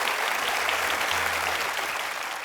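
Studio audience applause fills a comedy talk show set, dense, sustained clapping from a large crowd greeting a celebrity couple, steady and loud throughout.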